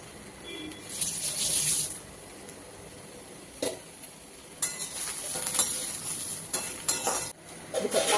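A spoon scrapes and clinks in a pan as a turmeric-spiced mixture roasts in plenty of oil with no water added, a soft sizzle running beneath intermittent stirring knocks.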